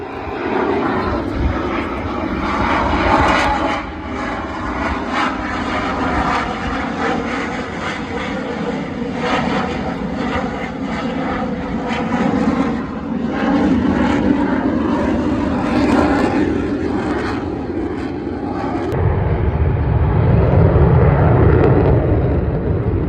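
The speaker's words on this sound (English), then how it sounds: "demonstrating the slow speed capability of the F-18 Super Hornet" An F-18 Super Hornet makes a slow-speed pass at an air show, its jet engines a loud, continuous roar that holds steady and swells toward the end.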